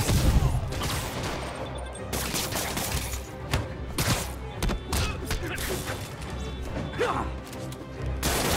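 Henchmen firing guns in Marvel's Spider-Man Remastered, rapid bursts of gunfire mixed with crashes, thuds and impacts over dense game music and effects, loud and continuous throughout.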